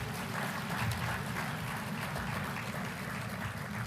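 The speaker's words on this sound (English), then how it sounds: "Let's give it a round of applause." An audience at a city address in a school academy hall claps at a moderate distance, a steady even patter beneath a low hum of room noise, fairly quiet overall.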